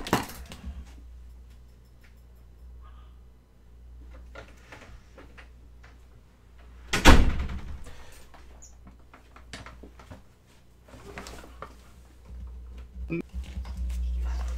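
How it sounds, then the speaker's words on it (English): A door closes with a single sharp thud partway through, set against a quiet room with faint scattered clicks and rustles before and after. "I'm gonna go close the door from the dog."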